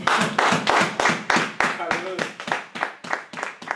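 A church congregation claps in a steady, quick rhythm to acclaim Jesus, the sharp claps close and evenly spaced while voices sing or speak over them.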